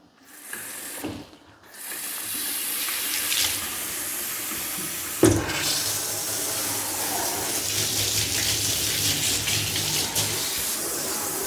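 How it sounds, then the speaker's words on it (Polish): Water sprays steadily in a continuous hiss over the leaves of a potted fern as a shower, with a brief pause and a clunk of the pot near the start, loud and close. "Przekręcam donicę i zobaczcie taki prysznic ja im tu robię"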